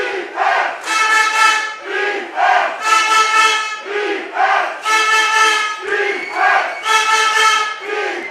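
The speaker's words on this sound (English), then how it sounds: "Very loud crowd cheering for Austria tonight" A loud stadium crowd at an Austria versus Denmark under-19 football match chants and cheers for Austria in repeated surging waves of massed voices, close and powerful, with no speech over it.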